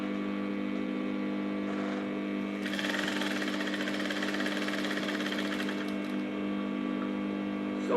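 A sewing machine runs steadily for about three seconds while stitching the center front of an over-bust bustier with external boning chambers, then stops. A constant mains hum sits underneath throughout.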